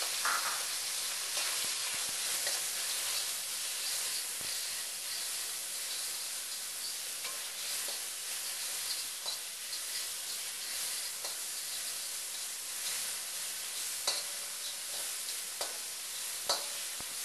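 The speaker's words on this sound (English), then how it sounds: "we're going to stir fry the only raw ingredient, which is the julienne pork" Steady, close sizzling and hissing of julienned raw pork stir-frying in a hot wok for lo mein, with occasional scraping and clatter of stirring throughout.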